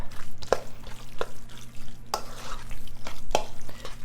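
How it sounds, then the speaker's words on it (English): A big spoon stirs hamburger casserole ingredients, ground beef mixed with lemon juice and salt, giving a few soft scraping clanks against the bowl at irregular intervals over low kitchen background noise, with no talking. "I'm going to change over and get a big spoon and mix this up"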